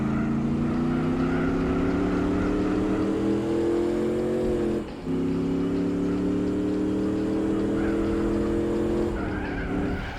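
A sustained high-revving sports car engine in Gran Turismo 4, modded engine sound, drones steadily, its pitch briefly dipping at a gear change before climbing again, loud and continuous.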